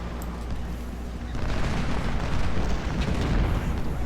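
Cannon artillery and musket volleys in the Civil War strategy game Ultimate General: Civil War, a dense, continuous rumble of battle that swells louder about a third of the way in and holds steady to the end.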